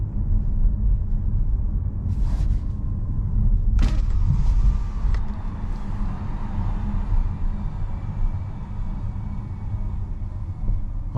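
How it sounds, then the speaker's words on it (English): A 2023 Nissan Juke hybrid rolling in electric-only EV mode, a low steady cabin rumble of tyres and road with a couple of brief knocks, no engine note, heard from inside the car. "now we can turn on the EV mode, and you see we start in silence. And we drive just with electric motor."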